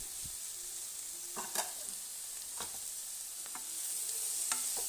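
Garlic, ginger, pepper paste and chopped tomatoes sizzle in a pan for a Kerala coconut chicken curry, with a steady frying hiss and a few scattered scrapes of stirring.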